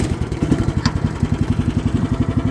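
A mini excavator engine with the choke applied chugs close by in a steady, evenly pulsing rhythm, running rough as it catches and turns over. No one speaks.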